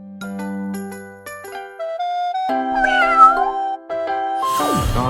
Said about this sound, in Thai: อันนี้ก็จะเป็นแมวสฟิงค์นะครับ